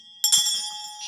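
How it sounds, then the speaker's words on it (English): A handheld shame bell rings once with a bright, sustained metallic tone that lingers and fades slowly, close and fairly loud, with no voices. "I give you the shame bell."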